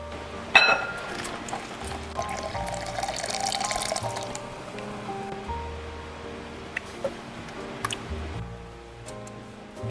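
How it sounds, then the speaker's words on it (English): Reduced apple cider and melted butter are poured into wet ingredients for apple cider donuts, making a soft, steady liquid pour with gentle splashing and a few small clinks, close and fairly quiet. "we're adding that along with our melted butter into the wet ingredients"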